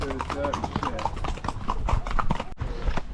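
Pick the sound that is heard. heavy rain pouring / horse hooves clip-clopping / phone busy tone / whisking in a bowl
horse hooves clip-clopping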